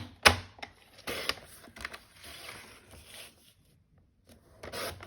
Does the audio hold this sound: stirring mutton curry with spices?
no